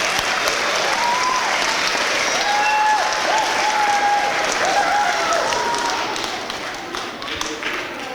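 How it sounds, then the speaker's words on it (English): Sustained, dense applause fills a school academic awards ceremony, a large audience clapping steadily throughout and thinning slightly toward the end. "So let's give them all one more big round of applause."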